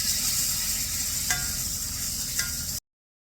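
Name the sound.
pork tenderloin medallions searing in olive oil and butter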